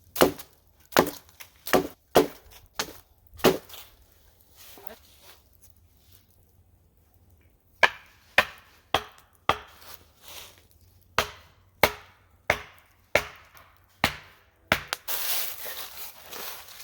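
A knife chops through raw chicken to cut out the backbone at a campsite, sharp crunching cracks coming in a slow, irregular series, close by, with brief stretches of quiet and faint talk between them.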